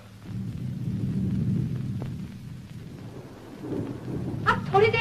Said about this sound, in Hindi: वो देखो, उस पहाड़ी पर बारिश शुरू हो गई